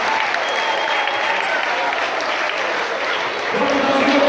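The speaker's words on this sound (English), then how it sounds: "Let's give it a round of applause" Audience at a sheep show applauds the Welsh Mountain sheep, billed as the best meat breed, with a dense, steady round of clapping from a crowd that carries loud throughout.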